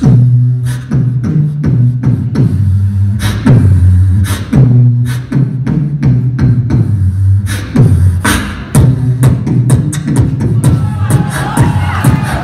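A beatboxer imitates a bass guitar with his voice on stage at a comedy club in Cape Town, giving a deep, rhythmic, pulsing low line with percussive vocal hits, loud and close, with crowd noise around it.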